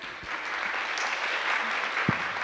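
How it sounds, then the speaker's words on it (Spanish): A short burst of steady audience applause welcomes speakers to a talk on Church social doctrine and human mobility, dense and even throughout with a couple of low knocks. "Entonces, un aplauso."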